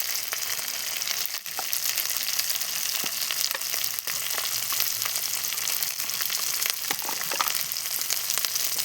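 Spice masala with green chili, chili powder and turmeric sautéing in a pan for a jackfruit dish, a dense continuous sizzle broken by repeated scraping strokes of a spatula, close up and without speech.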